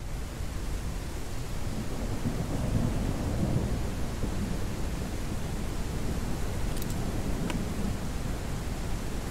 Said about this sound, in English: Change weather to thunderstorms.